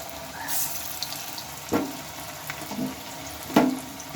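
Cabbage pakoras dropped one at a time into shallow oil over low gas heat, a soft continuous bubbling sizzle with a few sharper hisses as pieces hit the pan.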